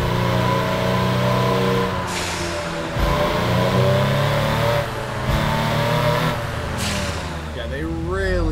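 Turbocharged full-carbon Honda Civic in a PC JDM racing game, its engine droning and revving steadily with gear-change dips, loud and continuous through a tunnel.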